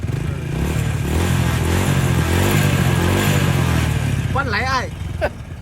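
A stock-engined 2005 Honda Wave 100S motorcycle runs close and loud with a steady revving drone for several seconds, then drops off as a voice speaks briefly at the end.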